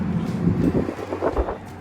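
Low, uneven rumbling buffets of wind hitting a microphone, steady throughout with gusty swells, no voices.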